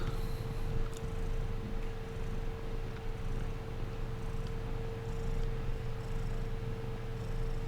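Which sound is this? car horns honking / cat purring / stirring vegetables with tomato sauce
cat purring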